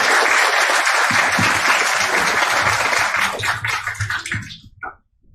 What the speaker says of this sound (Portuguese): Uma salva de palmas para o Carlos.